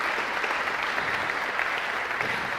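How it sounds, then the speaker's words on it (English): An audience gives a round of applause to a panel at an employer innovation day event, a dense even wash of clapping from a crowd, moderately loud and continuous with no voices over it. "can we give a huge round of applause to all of the panel?"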